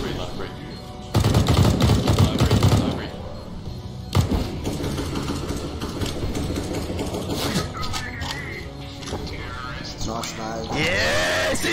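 Automatic rifle fire sprays in rapid bursts in the shooter game CS:GO, loudest early on, with further gunfire and game effects under excited talking.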